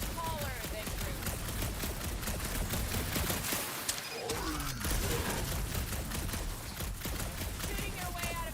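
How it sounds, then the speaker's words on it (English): Rapid sci-fi gunfire in the Guardians of the Galaxy video game, a steady run of shots mixed with game effects and music while voices talk over it. "Shooting your way out of every problem again, Peter?"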